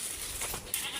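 A goat gives a short, faint bleat, heard alone with some background noise.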